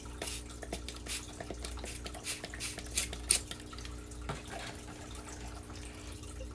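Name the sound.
stirring crested gecko food mix with a stick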